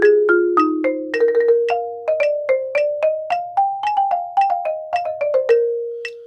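A fast mallet percussion passage from a middle school all-state piece, played exactly as written: a rapid run of bright, ringing struck notes at an even pulse, close and clear, with no voices.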